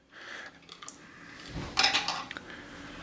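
Raspberry compote being stirred together in a bowl, a spoon clinking and scraping against the dish in short irregular bursts, louder toward the middle, with no talking.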